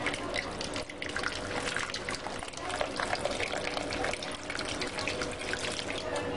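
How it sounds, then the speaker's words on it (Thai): Cooled boiled water pours into a blender jar, a soft continuous splashing trickle that runs for several seconds at low volume. "ใส่น้ำด้านข้างเป็นน้ำต้มสุกนะคะ"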